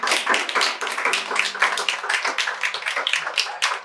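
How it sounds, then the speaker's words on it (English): An audience claps for a group of children, with loud, crisp, fairly fast clapping from a modest crowd nearby and a faint low hum underneath. "Let's clap for these children."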